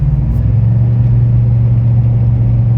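A GMC 6.6L truck engine hauls a Big Horn fifth-wheel trailer in sixth gear with a low, steady rumbling drone. No distinct shift stands out, and no one speaks.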